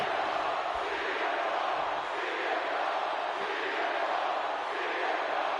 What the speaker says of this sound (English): you can actually hear the crowd singing